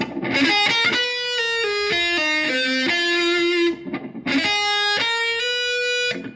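Distorted electric guitar picks out a blues arpeggio in the Devil's Blues lesson, with sustained notes stepping down in pitch, a brief pause, then a fresh phrase, loud and alone with no talking.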